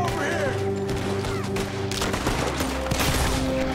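Dense gunfire crackles without a break in the Western action game Red Dead Redemption 2 during a shootout, a close, loud fusillade of overlapping shots with no speech over it.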